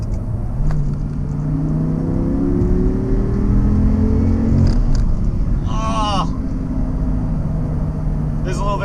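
An Audi R8 supercar accelerating hard onto a freeway, its engine note climbing steadily under a continuous loud roar, with a brief downshift blip near the end and faint high chirps over the drone.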